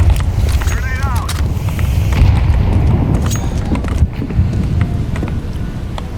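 A grenade goes off during a tactical first-person shooter round near bomb site B, a muffled boom inside a dense, loud bed of game noise, wind-like rush and movement that runs through the whole stretch.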